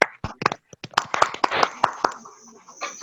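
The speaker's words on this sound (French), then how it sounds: "Est-ce que vous pouvez applaudir?" Scattered, uneven clapping from a small audience at an online Christian partners' fellowship in Burundi, sharp individual claps that thin out toward the end.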